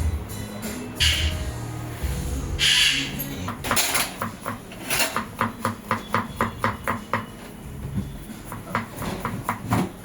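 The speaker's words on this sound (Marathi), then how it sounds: "लसूण बारीक चिरून घेतोय, आलं सोलून घेतोय, त्याचे पण बारीक तुकडे करतो." A knife chops garlic and peeled ginger finely on a cutting board, with rapid, fairly close rhythmic taps in bursts, mixed with a few clinks and clatters of kitchen utensils, and no talking.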